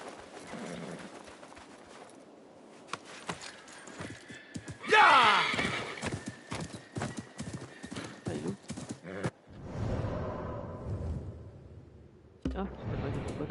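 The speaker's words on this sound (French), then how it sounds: "Allez, on va aller reprendre le cheval." A horse in Assassin's Creed Mirage whinnies loudly once, a high falling neigh, with clip-clop hooves trotting before and after and someone talking between.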